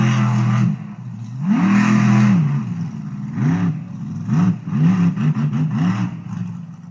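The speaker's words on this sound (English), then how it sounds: "This is a monster truck." A monster truck engine sound revs repeatedly, rising and falling in loud bursts, with a rapid series of throttle blips toward the end; no talking.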